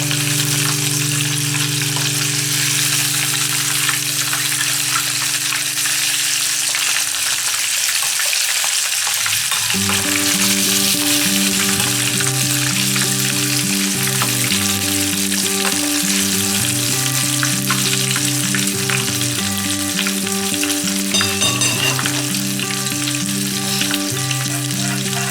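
Flour-coated fish fries in a pan over low heat, a dense, steady sizzle and crackle running throughout with a tonal background layer entering partway through.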